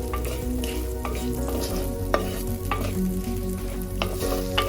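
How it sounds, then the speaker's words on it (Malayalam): Shallots sautéing in a pan for a Kerala kudampuli fish curry, a continuous close sizzle with repeated scraping taps of a spoon as they are stirred. "നല്ല രീതിയിൽ ഞാൻ ഇളക്കി എടുക്കുന്നു. ചെറിയുള്ളിയൊക്കെ നല്ല രീതിയിൽ വഴണ്ട് വരണം."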